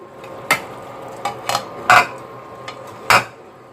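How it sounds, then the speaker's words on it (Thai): Spring onion and vegetables go into a pot of Thai Isan-style pork curry, with several sharp metallic clanks of a utensil against the pot at irregular intervals over a quiet background, with no talk. "เราใส่ผักนะครับ อันนี้ต้นหอมใส่ตัวฟูด้วยนะครับ"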